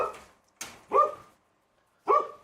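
A puppy barks several times close by, with short sharp yaps separated by brief pauses and a faint whine between them.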